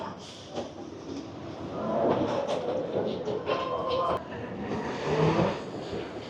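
A train rumbles past with rhythmic clattering and squealing wheels, rising and falling in loudness over several seconds, while people talk nearby.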